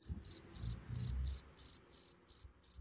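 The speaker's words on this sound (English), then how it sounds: "A cricket has four wings. It makes a sound with its wings." A cricket chirps by rubbing its wings together, giving a run of about nine clear, high-pitched pulsed trills in an even rhythm, close and alone against near silence.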